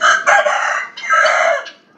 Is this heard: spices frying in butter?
no